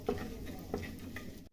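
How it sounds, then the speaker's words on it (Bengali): Whole spices (bay leaf, cinnamon, cloves and cracked cardamom) fry briefly in a pan with a soft, quiet sizzle, broken by a few light stirring scrapes before cutting off. "এবার গোটা মশলাগুলো একটু ভেজে নিব"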